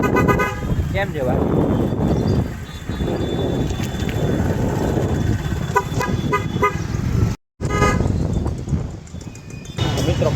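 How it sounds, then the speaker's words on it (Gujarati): A horn on a moving vehicle sounds in repeated loud toots amid road and wind noise, with people talking over it. "આનો હોરન જોરદાર છે, જો વગાડતા"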